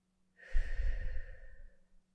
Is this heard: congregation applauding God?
no